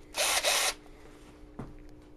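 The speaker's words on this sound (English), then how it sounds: "Gotta bring in my drill." A cordless power drill brought out on a cold day near a tractor, two quick bursts of high whirring close by, followed by a faint clunk and quiet background.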